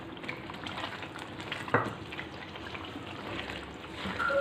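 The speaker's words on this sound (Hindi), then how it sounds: "अब मैं इसमें डाल रही हूँ टमाटर" Ghee and masala with ginger and garlic frying in a pan for a Hyderabadi green chilli and tomato salan, as tomatoes go in: a steady soft sizzle with a brief sharp splash partway through, no talk.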